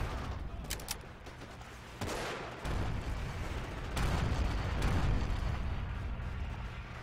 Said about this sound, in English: Do some covering fire here.